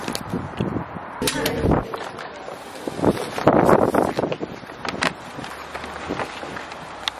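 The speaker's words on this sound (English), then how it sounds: "It's so windy out today." Strong wind blows outdoors, buffeting the microphone in rough, uneven gusts, with low rumbling surges and sudden bursts of crackling noise through most of the stretch.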